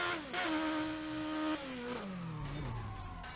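Car in the Burnout Paradise racing game revving hard and accelerating to high speed, engine pitch climbing then stepping down through gear changes, steady and loud throughout with no talking.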